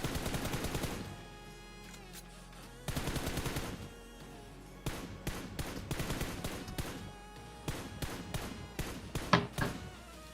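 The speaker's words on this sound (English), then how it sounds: "He's trying to get some shots back into Unleashed there." Gunfire in the mobile battle royale game PUBG Mobile, with sharp bursts of rapid shots, separate single cracks and short volleys cut by brief pauses, fairly loud and with no voices.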